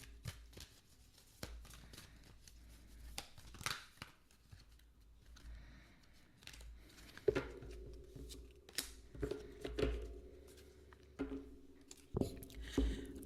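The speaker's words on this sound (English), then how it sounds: "having a conversation with you while we're shuffling the cards" Soft, irregular riffling and tapping of oracle cards being shuffled by hand, close and quiet, with scattered light clicks.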